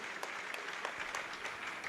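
Audience applause for the Chief Minister, Bhupendra Patel, at a book launch event, a dense and steady clapping from many hands that continues throughout.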